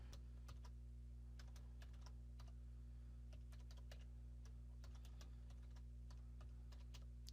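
Someone types a password on a computer keyboard, quick irregular key clicks in short bursts over a steady low electrical hum.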